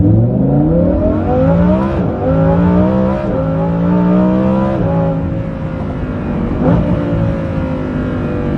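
A Lamborghini Huracan Performante with a Kline Innovation Valvetronic exhaust revs hard and loud, climbing through gears with rising pitch and brief drops at each shift, close and continuous.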